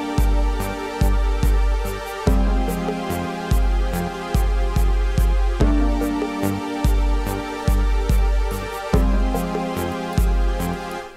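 Casio CT-S1000V keyboard tones layered across four tracks play together: sustained strings, rhythmic piano chords and steady percussion hits in a looping groove, full and loud throughout with no voices.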